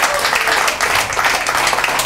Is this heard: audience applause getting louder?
yes